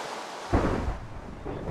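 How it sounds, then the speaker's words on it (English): A thunderstorm rolls in Minecraft: a deep rumbling thunderclap bursts out over steady rain-like hiss, then fades into a long low roll. "It usually storms up Kind of scary. Enter the crazy storm."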